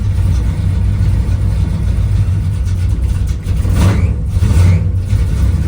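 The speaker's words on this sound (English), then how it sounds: "this thing cold starts nice" A 1969 Plymouth Barracuda with a 360 V8 and a race double-pumper carburetor runs loud and close after a cold start, a choppy, rumbling idle with a couple of blips of throttle near the end.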